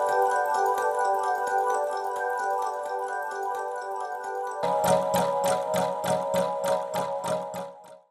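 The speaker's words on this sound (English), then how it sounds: "how you can use some delay and reverb to turn these into ambient melodic bits" Ambient melodic synth xylophone plucks built with delay and reverb: a sustained shimmering tonal wash gives way to a rapid, evenly spaced run of bright percussive plucks with echoing tails, loud and close with no voices.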